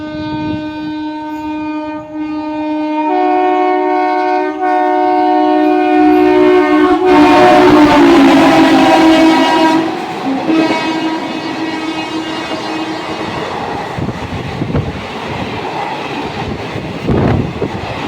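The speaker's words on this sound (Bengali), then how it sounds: "সামনে দিয়ে আসছে আলিপুরদুয়ার কলকাতা এক্সপ্রেস।" Alipurduar Kolkata Express passing on the Lalgola section: a sustained train horn sounds first, then the loud, close roar of the passing coaches swells and continues with rattling wheels before easing off.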